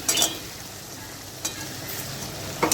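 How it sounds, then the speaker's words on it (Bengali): Potatoes are stir-fried in spice paste for a mixed vegetable curry, giving a faint steady sizzle with a few brief scraping stirs at the start, middle and end. "মশলা থেকে আলুটা খুব ভালো মতো কষিয়ে নিচ্ছি"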